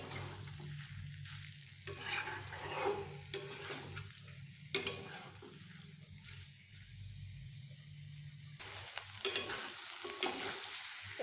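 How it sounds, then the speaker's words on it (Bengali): Taro curry sautéing in a pan, with a steady sizzle and repeated scraping stirs running through, clear and close, and no talking. "এটি আমার প্রায় কষানো হয়ে এসেছে।"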